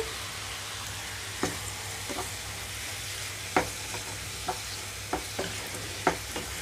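A spoon stirs a tomato, amaranth leaf and chana dal curry in a pan over a soft steady sizzle, with scattered scraping knocks spaced a second or so apart and no talk.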